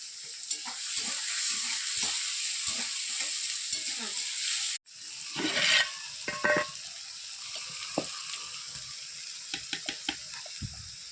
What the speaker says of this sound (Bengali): এটাকে ভালোভাবে ভেজে নেবো এর মধ্যে দিয়ে দেবো একটু লবণ যাতে পেঁয়াজটা তাড়াতাড়ি ভাজা হয়ে যায়